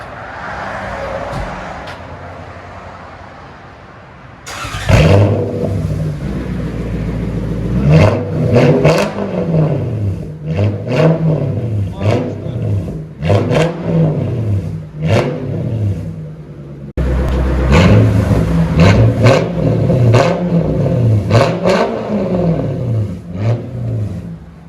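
A 1994 Lexus SC400 with true dual straight-pipe exhaust revs loudly and close up, a quieter idle first, then repeated rising and falling throttle blips over a steady rumble, with a short dip near the end before revving resumes.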